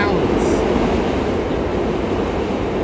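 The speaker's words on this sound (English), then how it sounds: "I can't compete with the subway underneath me" NYC subway train rumbling underneath a street, a loud steady low roar with dense broadband noise filling the whole stretch, constant and close, drowning out the surroundings.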